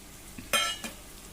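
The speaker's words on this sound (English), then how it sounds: "I'm going to give it a quick stir" Masala being stirred into onions frying in a pan, with a brief close scrape and clatter of a spoon against the pan over a soft background sizzle, followed by a second, lighter stir.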